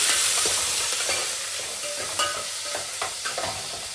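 Green chillies are stirred and fried in a pan, giving a bright, loud sizzle with light scraping stirs and small spits and crackles throughout.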